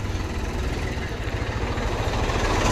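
A tractor engine idles nearby with a low, steady, chugging pulse that holds at an even level throughout.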